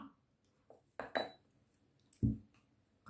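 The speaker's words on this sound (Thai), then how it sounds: "แล้วเราก็คนทุกอย่างให้เข้ากันค่ะ" A utensil stirring homemade face cream ingredients mixed with carrot oil in a small container, making a few sparse, faint clinks and scrapes against glass with quiet gaps between them.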